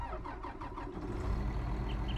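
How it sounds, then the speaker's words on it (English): The big diesel engine of a Claas tractor in Farming Simulator 19 cranks and fires up, then settles into a loud, steady low rumble close by. "You hear that big diesel engine firing up."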